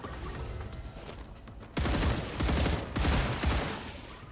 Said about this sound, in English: Is somebody shooting it over here?